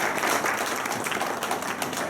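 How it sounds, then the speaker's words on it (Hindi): Audience applause welcoming the state secretary on stage at a grand government function held at the DC office in Ramban, a dense steady wash of many hands clapping at moderate loudness throughout. "जोरदार तालियों से रूही मैम का स्वागत करें।"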